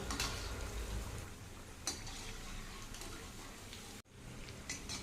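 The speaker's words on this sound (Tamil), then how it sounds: "எண்ணெயோட சலசலப்பு பார்த்தீங்க அப்படின்னா நல்லாவே குறைஞ்சிடுச்சு" Sweet pumpkin bondas deep-fry in a pan of oil, producing a soft, even sizzle that carries on quietly, broken by a couple of brief utensil knocks.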